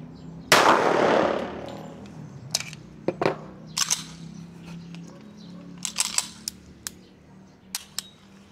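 A firearm fires one loud, sharp shot at shooting practice that rings out and fades, followed by scattered quiet mechanical clicks and handling noises.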